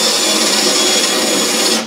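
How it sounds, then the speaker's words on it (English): A 3/16 drill bores off pop rivet heads on a Land Rover Defender seatbox side panel, a loud, close, continuous whirring grind lasting under two seconds. "So just have to drill off the heads."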